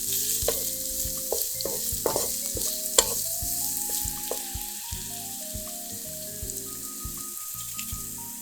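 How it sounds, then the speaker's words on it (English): Onion sautéing on low heat in a pan, with repeated stirring scrapes and a soft, steady sizzle throughout, up close and alone without talk. "Sauté the onion on low heat until it caramelizes."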